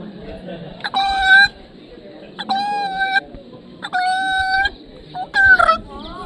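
A man mimics the call of a long-tailed brown treepie with four loud, close bursts of harsh, nasal, harmonic squawks separated by brief pauses, over low background murmur at a bird festival.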